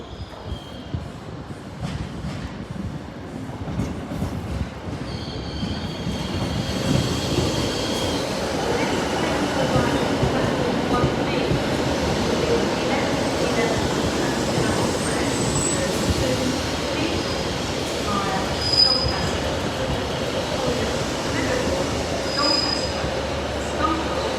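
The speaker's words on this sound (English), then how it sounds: "156441 leading the train into the station." Northern class 156 diesel unit 156441 pulls into Sheffield station, its engine rumble and wheel noise building steadily to a loud, sustained roar, with brief high wheel squeals over the platform ambience.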